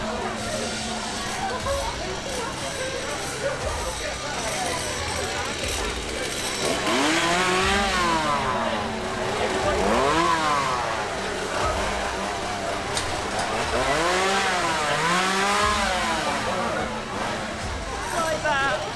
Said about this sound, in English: First thing you hear is a chainsaw.